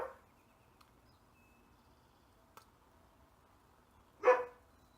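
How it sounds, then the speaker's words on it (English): A single short dog bark rings out near the end, fairly close, after a few faint clicks in an otherwise quiet room. "My dog's barking."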